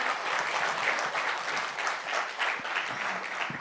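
Sustained applause from a large crowd at a film event with Chiranjeevi and Aamir Khan, a dense, continuous roar of clapping with a few sharper individual claps near the end.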